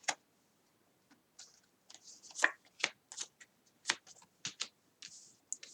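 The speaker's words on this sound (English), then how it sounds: "I just moved the cards around so I can remember what order they fell out in." Tarot cards slid and shuffled around on a tabletop, heard as soft, close papery swishes and taps in short separate bursts with quiet gaps, and no voice.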